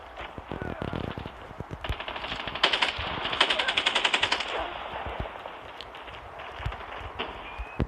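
Rapid automatic gunfire from a customized gun in Call of Duty Mobile, Season 9, in a long loud sustained burst of fast shots with scattered single reports before and after, heard alone without talk.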